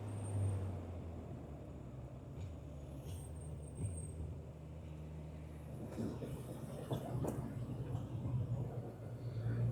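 Steady road traffic rumble from cars, buses and trucks on a highway between Chennai and Yelagiri during a rainy ride on a Kawasaki Z900, with low engine drone, passing vehicles and an occasional hiss throughout.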